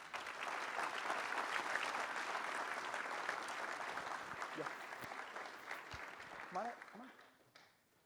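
A crowd applauds steadily for several seconds, the clapping dense and even before tapering off as a voice begins speaking.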